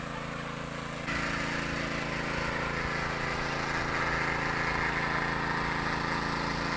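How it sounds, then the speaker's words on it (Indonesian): A well drilling machine's engine runs continuously, loud and close, with a steady droning rumble that steps up slightly in intensity after the first second and holds without a break. "kita lanjut ngebornya saja"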